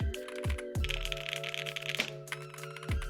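Quick typing on a Tofu 65% mechanical keyboard, a close run of crisp, clacky keystrokes with a few louder bottom-out clacks, heard alone with no talk.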